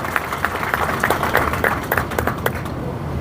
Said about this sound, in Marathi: लायन्स आणि समतासाठी आपण जोरदार टाळ्या वाजवून त्यांचं अभिनंदन केलं पाहिजे